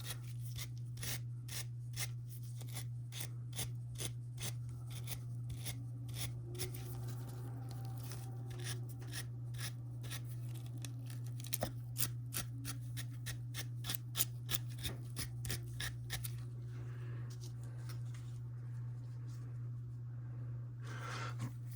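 A cloth rubs and wipes a part of a Singer 431G sewing machine in quick, repeated light strokes, faint and dry, over a steady low electrical hum.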